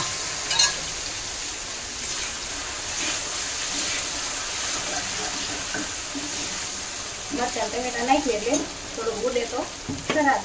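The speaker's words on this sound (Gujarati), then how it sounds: "હવે આપણે એમાં નાખશું મરચા, મરચા નાખશું." Green chillies sizzle and fry in a pan for papad vada, with steady stirring scrapes throughout and a busier burst of spatula and sizzle activity near the end.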